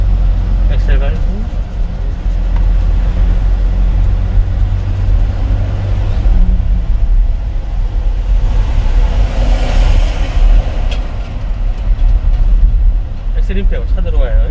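A car engine steadily accelerating during a first-class manual driving lesson, a loud continuous low rumble rising and falling throughout, with the instructor talking over it.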